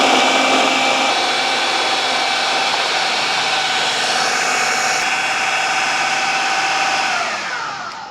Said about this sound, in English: so I just added a little bit more of the almond milk, and I'm going to blend it